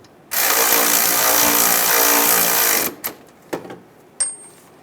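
A power tool whirs loudly for about two and a half seconds, tightening bolts on a Volkswagen Beetle alternator, then stops; a few short clanks and knocks follow.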